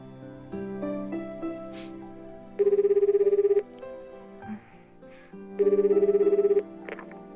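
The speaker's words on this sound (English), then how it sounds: "Sora pulls out her phone and makes a call" A phone call rings out in a repeating ringback pattern, with two loud, rapidly pulsing tone bursts of about a second each, over soft background music.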